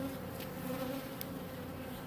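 Steady, close buzzing of many honeybees around a packaged queen being released, a continuous droning hum with no talking.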